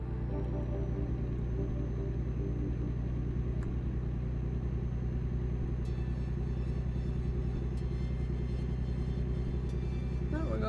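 A truck rolling downhill through mountains in American Truck Simulator gives a steady, low engine rumble and drone that holds evenly throughout, with faint higher ticks over it.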